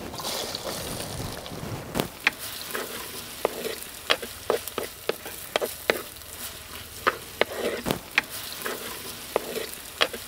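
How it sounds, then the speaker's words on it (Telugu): Onion pieces fry in hot oil with ginger and garlic, a continuous close sizzle punctuated by frequent sharp scraping and clacking strokes of a spatula against the pan. "అల్లం వెల్లుల్లిపాయ ముక్కలు 2 నిమిషాలు వేయించుకున్న తర్వాత ఉల్లిపాయ ముక్కలు వేసుకుందాం."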